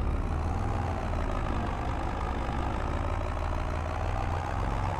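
An older tractor's engine idles and runs steadily as heard from inside the cab in Farming Simulator 22, a dense, continuous low rumble with no breaks throughout.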